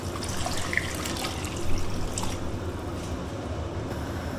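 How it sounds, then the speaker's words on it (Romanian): Water runs and splashes steadily into a pot of potatoes and pork, a continuous close gurgling pour with no voices. "Adăugăm apă cât se acopere bine"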